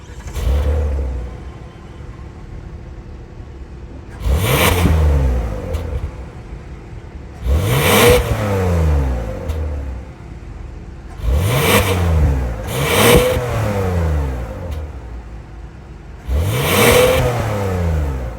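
A 2024 Kia Telluride's 3.8-liter V6 engine idling, then revved several times in sharp bursts that rise and fall, loud and close, with quieter idle between each rev.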